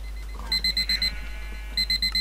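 A timer alarm beeps in two quick bursts of rapid, evenly spaced electronic tones, loud and close, with a short gap of softer noise between them.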